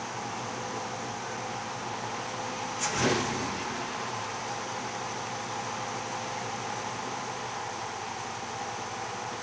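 A 1965 Malibu SS with a small block 350 V8 runs steadily at idle, giving a continuous broadband engine rumble and hiss for the whole stretch, with a brief louder burst early on.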